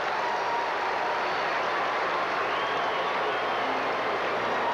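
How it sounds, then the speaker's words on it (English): A baseball stadium crowd at a 1989 Rangers versus Blue Jays game yells and cheers for the pitcher, a broad continuous roar heard from the broadcast booth, steady and moderately loud for the whole stretch with no break. "Listen to this crowd yelling for the goose."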